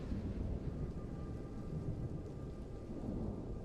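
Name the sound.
thunderstorm in a video game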